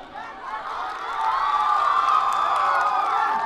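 At a Jharna Thapa stage show in Salyan, a large crowd cheers and whoops, the roar swelling halfway through into sustained loud cheering with clapping mixed in.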